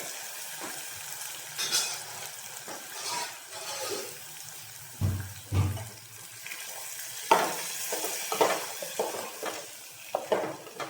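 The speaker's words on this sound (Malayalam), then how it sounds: "ഇനി ഇത് നമുക്ക് ഈ കറിക്കകത്തോട്ട് ഒഴിച്ചു കൊടുക്കാം." Hot tempering is poured into an erissery curry and sizzles in fairly quiet, uneven bursts. Soft pan clatter and stirring sounds come between the bursts.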